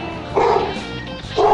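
Dogs bark close and loud in a home brewing setting, two sharp yapping bursts separated by a short pause.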